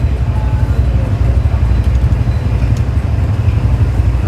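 Steady road traffic outside beside a street, including jeepneys, forms a loud, continuous low rumble with no breaks and no talking.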